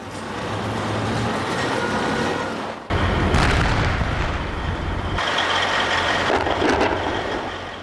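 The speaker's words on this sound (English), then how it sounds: "Explosions after dark." Explosions boom after dark during urban combat in Fallujah, with a sustained heavy rumble broken by a sharp, loud blast and followed by further crashing, rolling detonations.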